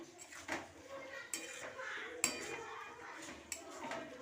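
A spoon stirring a shrimp and banana flower curry with ground roasted cumin in a pan: faint, scattered metallic clinks and scrapes at an irregular pace.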